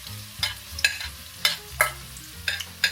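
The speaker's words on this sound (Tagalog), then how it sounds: "Oh, the oil is hot, so I need to put the onions." Onions are added to hot oil for egg fried rice and stirred, giving sharp scraping clatters at irregular intervals over a soft background sizzle, close and fairly loud, with no talking.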